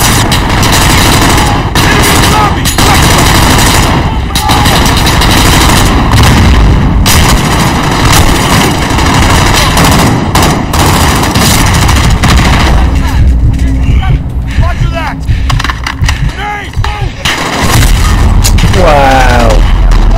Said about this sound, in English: Just got hit by a grenade.